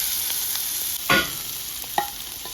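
Prawns fry in oil in a covered pan, giving a steady close sizzle broken by a brief scraping stir and a small clatter, with no talking.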